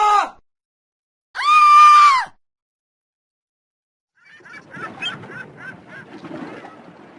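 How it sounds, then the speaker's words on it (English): Beach people scream in the iPad game Sparky The Shark, with two loud separate cries separated by silence, then a scatter of fainter frightened voices and commotion. "They stared, then screamed and ran away frightened."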